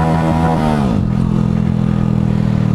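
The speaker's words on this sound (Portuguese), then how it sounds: "Pela zoada vocês já devem saber qual escape é novo." A Honda Pop 110 motorcycle fitted with a new exhaust revs loud and close, the pitch climbing then dropping into a steady, throaty idle, with no talking over it.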